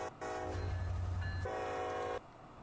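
A passing train sounds two loud, sustained horn blasts back to back in the video game Starfield, with low rumbling rail noise underneath.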